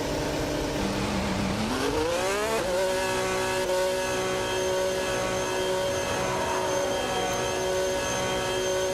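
Race car engine in an F1 video game pulling away from a standstill, the whine rising steeply over the first few seconds and then holding a steady, loud, sustained tone with no talking.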